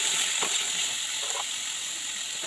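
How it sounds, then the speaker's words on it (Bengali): Potatoes and pointed gourd frying in a pan, giving a steady, close sizzle and hiss throughout, with a few soft stirring scrapes and no talking. "এখন একটু লাল লাল করে তরকারিগুলো ভেজে নেব"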